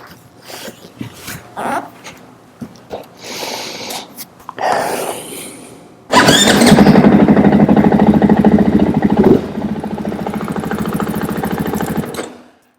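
A KTM or Husqvarna dirt bike engine turns over through a few sputtering attempts, then fires and settles into a loud, steady, close idle with a rapid buzzing putter that runs until it cuts off.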